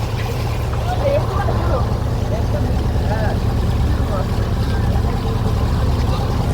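Engine of a passenger launch cruising through the Sundarbans mangrove forest, a steady low drone continuing without break, with talk over it.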